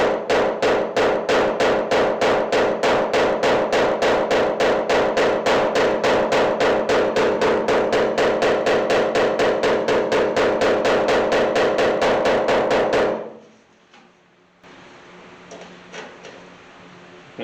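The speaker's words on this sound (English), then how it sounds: "So the first thing I'm going to do is take my smooth body hammer," A smooth body hammer taps steadily on the sheet metal roof of a 1981 Chevy C10 short-bed squarebody truck, loud rapid metallic strikes in an even rhythm for about thirteen seconds, then stopping abruptly into quiet room tone.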